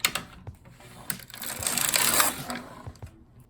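A knitting machine carriage is pushed across a row of a sweater, giving a clattering mechanical swish that builds and fades, with sharp clicks at the start and end.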